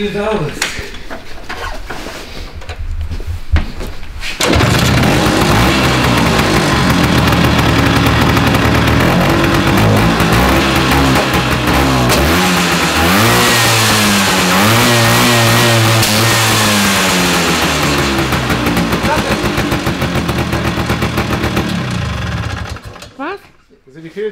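A scooter engine revs on a dyno roller, loud and close, rising and falling through repeated high-pitched sweeps for about twenty seconds after a quieter opening, with voices at times and a sudden cut at the end.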